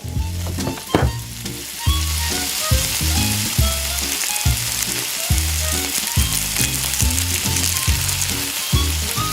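Minced meat frying with vegetables in a miniature pan for a tiny burrito, a loud, steady sizzle broken by repeated rhythmic scrapes and stirs throughout.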